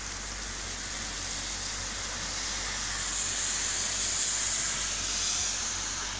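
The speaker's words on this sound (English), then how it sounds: "it's raining. But it's not just rain, it's a typhoon." Heavy, steady typhoon rain with a dense continuous hiss that swells slightly midway, no voices, like a downpour heard from indoors.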